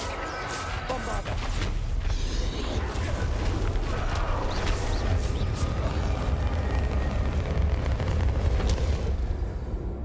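Sustained roaring blast from the Bombarda explosion spell in Hogwarts Legacy's final battle, a dense, loud rumble with crackling debris that holds steady for several seconds without pause.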